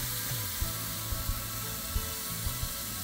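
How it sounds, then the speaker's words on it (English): Peppers and ham sizzling on the hot plates of a 3-in-1 bubble waffle maker, a soft steady crackle with a few faint clicks and taps, no talking. "You hear the sizzle? That's a sizzle."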